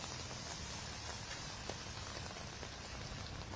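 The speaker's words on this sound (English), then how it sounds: "because it's raining" Steady rain falls across an outdoor city intersection serving as a community memorial space, a dense, even hiss of drops on surfaces throughout with a few sharper splashes and no voices.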